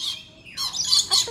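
Birds at Kuala Lumpur Bird Park give loud, harsh squawks close by, two or three rising calls in quick succession with no voices.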